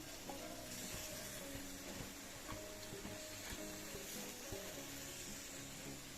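Jhal muri mixture of puffed rice with coriander leaves, onion, tomato and green chilli being stirred in a hot wok, giving a steady scraping, rustling sound with light sizzling throughout, close and continuous with no talking.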